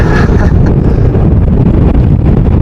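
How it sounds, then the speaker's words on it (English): Strong gusty wind buffeting the microphone during stormy plane spotting at Amsterdam airport, a loud continuous roar with no talk. "Wind is blowing, and another aborted landing."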